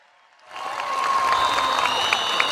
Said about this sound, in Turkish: Bir alkış bütün emeklilere.